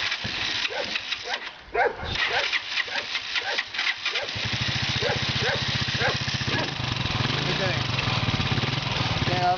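A motorcycle engine catches after a kick start and settles into a steady, close putter, with a dog barking in the background before it starts.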